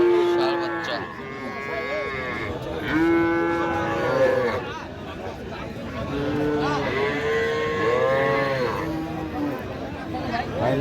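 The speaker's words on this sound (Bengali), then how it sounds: "ষাঁড় বাচ্চা ভাই।" A bull calf moos several times in long drawn-out calls, close and loud, at what sounds like a livestock market, with people talking in the background.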